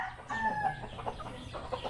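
Chickens cluck and crow nearby on a farm, a rooster-like call rising early, followed by short repeated clucks, moderately loud with no talk.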